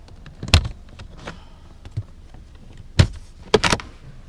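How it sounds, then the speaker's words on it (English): Plastic door trim on a Lexus IS F is pried loose by hand, giving a few sharp snaps and clicks spaced irregularly among faint scraping and handling noises, close and with no talking. "open the door and start prying this side piece out"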